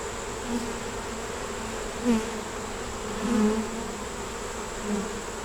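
Honeybees buzz around an open hive during an inspection, a continuous close swarm drone with individual bees swelling louder as they pass near.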